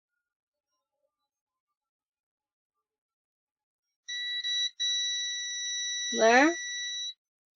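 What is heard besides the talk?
multimeter continuity test beep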